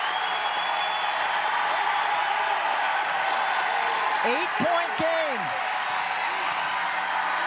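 Crowd noise fills a women's college basketball arena at a South Carolina Gamecocks versus South Dakota State game, a steady roar and applause swelling under continuous play-by-play commentary, with a brief whistle-like tone near the end.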